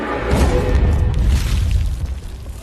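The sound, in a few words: bomb explosion in anime Fullmetal Alchemist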